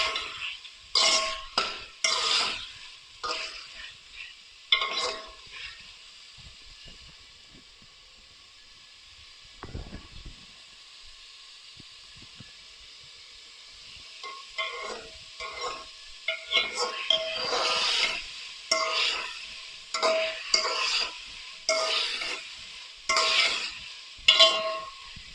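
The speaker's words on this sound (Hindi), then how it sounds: "इनको अच्छे से 2 से 3 मिनट फ्राई करने के बाद" Okra and meat for bhindi gosht karahi fry in a pan with a steady sizzle, broken by repeated scraping and stirring clatters of a spoon against the metal, no voices.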